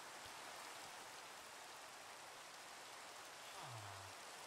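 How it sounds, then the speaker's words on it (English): Steady rain falls in the Minecraft ATM 8 modpack, a soft, even hiss of drops that runs unbroken through the whole stretch, with a brief low tone near the end. "I was trying to make it so it's not raining anymore, but it doesn't look like it's going to stop"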